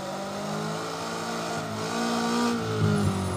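A Toyota AE86 with a roughly 174-horsepower 20-valve blacktop engine on cams revs in rFactor toward a 9500 RPM limiter, a loud continuous engine whine that climbs and holds steady on its own with no voices.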